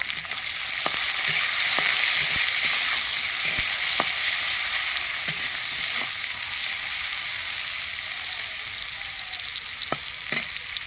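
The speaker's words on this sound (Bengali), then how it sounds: "উচ্ছেগুলো লাল করে ভেজে নেব।" Bitter gourd pieces fry in oil with turmeric and salt, a constant loud sizzle and hiss up close, with occasional sharp clicks and scrapes of a utensil stirring the pan.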